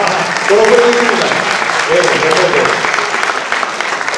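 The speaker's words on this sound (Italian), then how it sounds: "Grazie di cuore, un applauso." A crowd claps steadily and fairly loudly at a culture gala while a voice speaks in Italian over the applause, the clapping continuing without a break.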